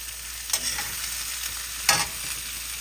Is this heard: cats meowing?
no